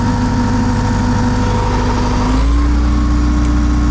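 A Trackless MT5 snowblower engine runs close by with a steady, loud hum. Its pitch and load shift upward a little over halfway through.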